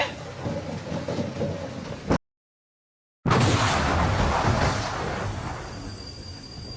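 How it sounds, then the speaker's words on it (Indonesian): Heavy rain and thunder from a film scene roar as a dense, loud wash, broken by a second of silence before a stronger rumbling downpour resumes and continues steadily. "di sana hujan sangat lebat. Di saat mereka ingin pulang, tiba-tiba terjadi gempa dan petir menyambar markas mereka."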